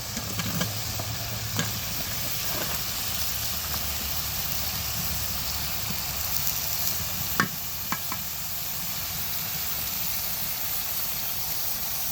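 Steady sizzling of dried fish frying in a wok, with occasional sharp scrapes and knocks of a utensil stirring, close and continuous.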